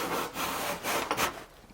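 A Veritas card scraper in its holder being pushed across maple wood, producing a few close, rasping scraping strokes in quick succession with short pauses between them.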